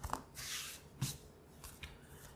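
Dice rattle and clatter in quiet, brief bursts during a tabletop session of the board game Pirates, Treasure & Rum, with a few soft taps between.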